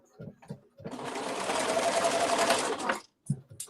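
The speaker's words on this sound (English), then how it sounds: "now do you do a back stitch on the top stitches or?" A sewing machine runs a steady burst of back stitching over top stitches on a sweater for about two seconds. Brief bits of close talk come just before and after it.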